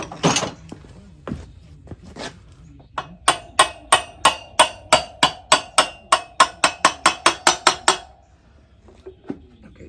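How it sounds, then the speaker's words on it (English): A hammer tapping the axle through the brake hub of a 1978 Honda CB400, about twenty sharp metallic knocks in a quick steady rhythm, close and clear, after a few scattered clanks of handling. "I might need a hammer to tap that."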